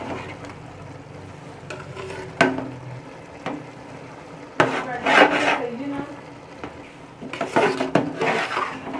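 Vegetable pulao rice being stirred and mixed in a pot, with scraping spoon strokes and sharp clinks against the metal, moderately close amid a quiet room.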